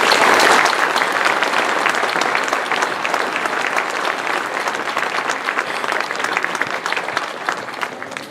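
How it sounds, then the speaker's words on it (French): A crowd at a town New Year's greetings event applauds warmly and at length, close, sustained clapping with a dense texture that slowly eases slightly toward the end. "Et je vous demande de les applaudir."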